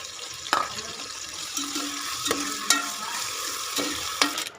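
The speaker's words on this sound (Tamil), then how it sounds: "இந்த வெங்காயம் நல்லா ப்ரௌன் கலராக வர முடிய வறுத்துட்டே இருக்கணும்." Onions sizzle steadily in a pan while a utensil scrapes and clinks against it every second or so, close up with no talking.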